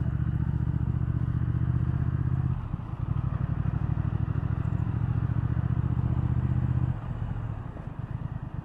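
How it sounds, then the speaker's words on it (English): A 2019 Triumph Thruxton R 1200 on stock pipes rumbles with a steady, throaty exhaust at close range, holding a deep drone with two brief dips where the throttle eases before resuming. "the stock pipes that are on it sound very nice, very throaty"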